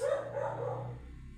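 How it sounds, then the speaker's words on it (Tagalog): Dogs bark nearby in a short, moderately loud burst that trails off after about a second, with no talk. "Yung mga aso, nakakabanyas."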